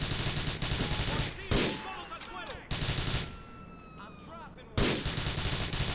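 Bursts of gunfire ring out in Grand Theft Auto IV, several loud, sharp volleys spaced a second or two apart with echoing tails between them.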